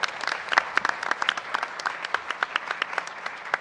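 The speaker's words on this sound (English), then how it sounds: "Let's celebrate them with one more round of applause" Audience applause at a school board of trustees meeting, a steady patter of many hands clapping close by for several seconds, continuous and fairly even without voices.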